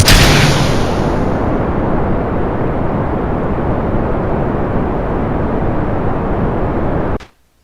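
Rocket engine roaring at launch throttle in the Kerbal Space Program game, a loud continuous broadband rumble that holds steady for about seven seconds before cutting off abruptly, with no talk.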